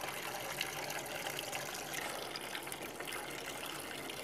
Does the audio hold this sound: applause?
no